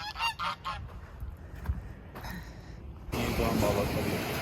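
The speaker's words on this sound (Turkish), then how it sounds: "Ördek değil mi? kaz mı? Ha bunlar kaz ördek değil galiba." Several geese honk in a quick burst at the start, then a steady broadband rush like wind or distant traffic takes over.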